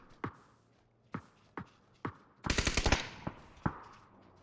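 Gunfire in a PUBG pro scrim match: spaced single shots, then a rapid automatic burst of about half a dozen rounds, followed by a few more isolated cracks, fairly distant and moderately loud.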